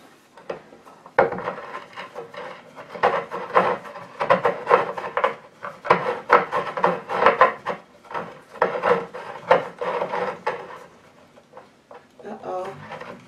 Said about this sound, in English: Screw the 3rd leg on.